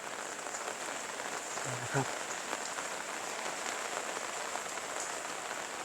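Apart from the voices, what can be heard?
rain falling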